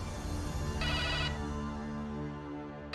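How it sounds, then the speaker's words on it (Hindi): A mobile phone ringtone plays a bright, steady repeating electronic melody, loud and close, with no voices over it. "तेरे फोन बहुत बजते हैं।"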